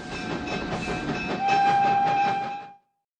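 A passing train rumbles with rhythmic clickety-clack and a sustained whistle tone, loud and steady, before the sound ends abruptly.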